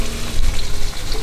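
Corn frying in a pan in a Vietnamese country kitchen, a loud, close, continuous sizzle with dense crackling and no voices over it.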